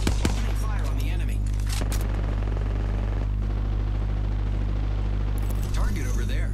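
Gunfire from the video game Apex Legends crackles steadily and loudly against a constant low rumble, with players talking over it.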